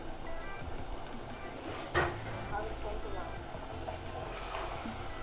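Minced meat keema with green chilies fries in a pan with a steady, soft sizzle. A spoon stirs through it, and a single louder clank of utensil against the pan comes near the middle.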